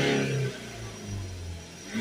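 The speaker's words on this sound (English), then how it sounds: "Now we're going to run the car again and then recheck" A BMW 118d 2.0 diesel with a blocked particle filter runs nearby, a low steady engine hum with a slight rev at the start easing back to idle.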